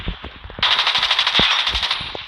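MP5 submachine gun fire in Call of Duty Mobile, a loud close burst of rapid automatic shots followed by a sharper, brighter sustained stream of fire to the end.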